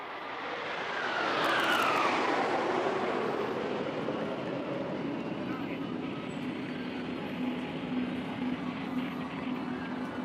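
Aircraft of the Indian Air Force Suryakiran Aerobatic Team roar overhead at an air show at Marina Beach, Chennai, swelling loud early and then holding as a broad sustained engine rush.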